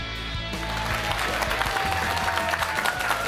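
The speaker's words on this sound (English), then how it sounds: "It is always so much fun to have a crowd like this applauding us on" Studio audience at a high school quiz bowl tournament breaks into steady applause, a dense wash of clapping that holds at a fairly even level throughout with faint crowd murmur underneath.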